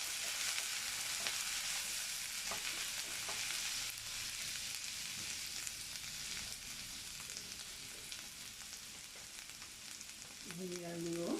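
Pointed gourd dolma filling sautéing in a pan, a steady broad sizzle with occasional stirring scrapes throughout, a brief tonal clink near the end.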